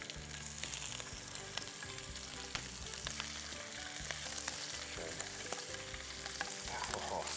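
Fish fillets sizzle in a hot pan, laid skin side down in oil and butter, giving a steady close crackling fry with small pops throughout and no voices.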